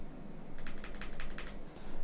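Rapid, steady clicking of keys on a computer keyboard as a search term is entered, close and clear over a low room hum, with no talking.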